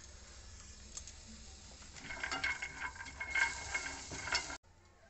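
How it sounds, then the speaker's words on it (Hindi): Dry fruits such as walnuts and raisins roasting in a pan, with soft scraping and rattling as they are stirred, growing busier midway before stopping suddenly. "ड्राई फ्रूट को मैं अच्छी तरह से भून ली हूँ"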